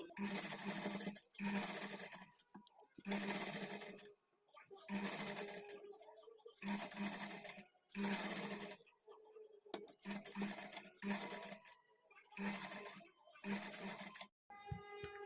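A sewing machine stitching a blouse hemming strip runs in repeated bursts of rapid mechanical chatter, each lasting a second or two, with short pauses between and a voice talking in the gaps.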